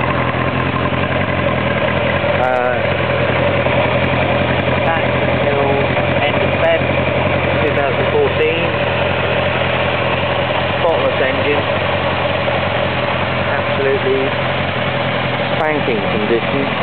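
A 1989 Yamaha XJ600 motorcycle engine idles steadily, a loud constant mechanical hum and rumble throughout, close up, with a voice speaking over it.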